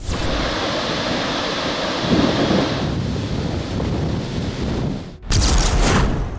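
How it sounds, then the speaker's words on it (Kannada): Loud, roaring ocean surf with high waves crashing continuously during heavy rainfall, with heavy wind buffeting the microphone and a brief dip before another surge of breaking waves. "ಆಳೆತ್ತರ ಅಲೆಗಳಿಂದ ಅಬ್ಬರಿಸ್ತಿದೆ ಸಮುದ್ರ."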